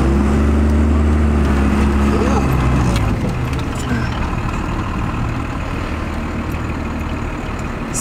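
First-generation Cummins diesel truck engine running, a loud, close, deep rumbling drone that lowers in pitch after a few seconds and keeps idling steadily, with voices speaking over it.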